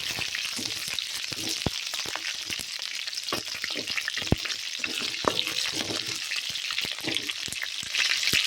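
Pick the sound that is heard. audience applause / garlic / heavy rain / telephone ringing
garlic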